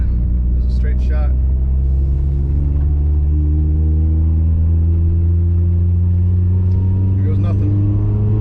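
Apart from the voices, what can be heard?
Mitsubishi Evo engine accelerating during tuning log run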